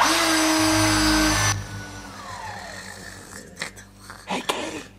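A power drill whirs loudly and steadily for about a second and a half, then cuts off, leaving quieter room noise with a few short bumps and a voice-like sound near the end.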